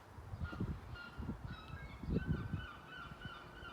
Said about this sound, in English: Even the seagulls are happy with it, look. Can you hear them?